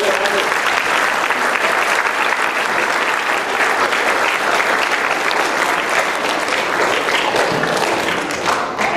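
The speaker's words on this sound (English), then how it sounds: "I think they deserve a round of applause" A crowd at a junior soccer club presentation day gives a sustained round of applause, dense and even from start to finish, with some voices faintly underneath.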